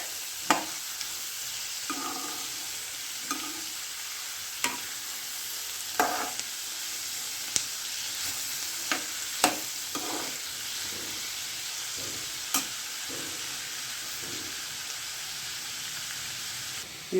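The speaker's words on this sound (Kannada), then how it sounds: "ಈರುಳ್ಳಿ ಭಾಳ ಇದ್ದವು ಅಂತಂದ್ರೆ ಜಲ್ದಿ ಕೆಂಪು ಆಗ್ಬೇಕಂದ್ರೆ ಒಂದು ಅರ್ಧ ಚಮಚ ಸಕ್ಕರೆ ಹಾಕಬೇಕು, ಅಂದ್ರೆ ಲಘು ಕೆಂಪು ಆಗ್ತಾವೆ ಎಣ್ಣೆಯಾಗ" Onions frying in oil with half a spoon of sugar hiss in a steady close sizzle, broken by sharp scrapes and taps of a spoon stirring the pan every second or two, with no voices.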